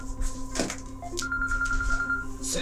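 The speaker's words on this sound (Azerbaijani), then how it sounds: "zəng gəlir" A telephone rings with an incoming call in a domestic drama scene, a steady electronic ringtone tone running through the clip at moderate volume, with faint background sounds and no clear talk.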